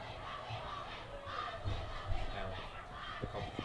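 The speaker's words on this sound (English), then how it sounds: "Now we got the juniors chanting, I believe that we will win" High school junior girls chanting together at a homecoming powderpuff football game, a faint distant group chant with a rhythmic rise and fall, heard over a low crowd murmur.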